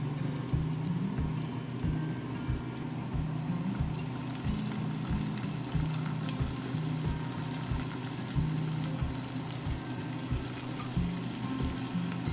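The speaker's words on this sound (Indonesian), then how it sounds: "Di sini saya mulai memanaskan minyak dan menambahkan atau memasukkan bawang merah dan bawang putihnya" Shallots and garlic sauté in hot oil in a wok on a flat electric stovetop, giving a steady, moderate sizzle with faint periodic knocks underneath.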